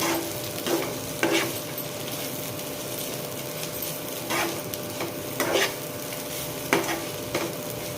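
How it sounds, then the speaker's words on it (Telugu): Ivy gourd pieces coated in chilli powder fry in a pan with a constant sizzle, broken by several sharp scraping stirs of a spoon against the pan at irregular intervals; no one speaks. "కారం వేసుకున్నాక పచ్చి వాసన పోయేంత వరకు వేయించుకోవాలి."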